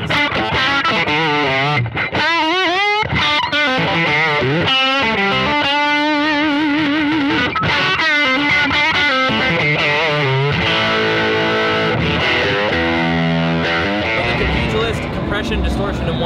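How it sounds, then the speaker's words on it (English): Electric guitar through a compact pedal pairing a compressor with a flat, transparent distortion, played in a large guitar store; loud sustained chords and single-note lines ring out continuously for the whole passage. "Really nice kind of flat, transparent distortion."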